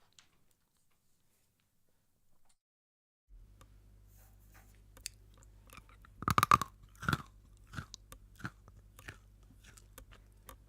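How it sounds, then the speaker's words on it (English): A cranberry-flavored vitamin D chewable supplement is crunched close to a sensitive microphone, a few sharp bites followed by softer chewing crackles over a low steady hum after a silent start. "That was the sound of delicious vitamin D crunch, cranberry flavored."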